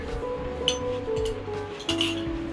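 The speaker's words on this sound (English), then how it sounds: "Eating cereal." A metal spoon clinks a few times against a cereal bowl, sharp light taps over a low background hum.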